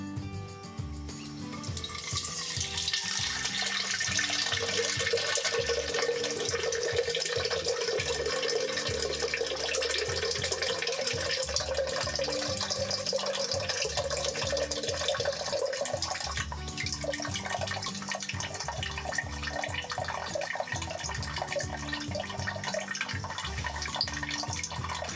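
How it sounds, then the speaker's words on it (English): Water drains from an outdoor hose bib into a jug, a steady, close gushing stream that runs continuously, its pitch rising gradually as the container fills. "Step 5, we're going to be draining the hose bib now."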